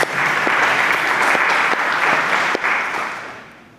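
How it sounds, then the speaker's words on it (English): Audience applause at an AutoML conference talk, a dense burst of clapping from a room of people lasting a few seconds before tapering off. "Yeah, you can applause if you want to."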